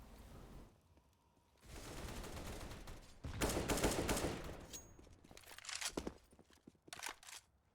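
Gunfire in a Counter-Strike match on the Nuke map, with scattered shots and short bursts, some distant and muffled, mixed with footsteps and map ambience at a moderate, uneven level.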